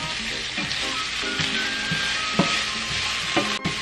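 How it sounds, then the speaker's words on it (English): Chopped garlic goes into a pan of cooking onions and fries with a continuous sizzle, punctuated by several scraping stirs and light clatters from the utensil, close and without speech. "Now add your chopped garlic."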